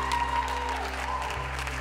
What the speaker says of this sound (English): So big round of applause to her for that.